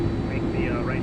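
An iniBuilds A330-300 jet engine spools up in Microsoft Flight Simulator 2024, giving a steady loud roar with a rising, sweeping whine over a brief stretch.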